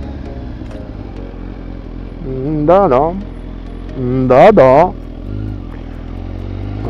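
Motorcycles rev their engines at night in two sharp, rising bursts, the second louder and closer, while a person talks nearby.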